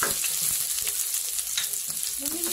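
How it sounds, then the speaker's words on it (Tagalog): Garlic and onion sauté in a hot pan for a patola and misua soup, giving a loud, dense, continuous sizzle with faint stirring scrapes beneath it. "Magigisa tayo ng bawang."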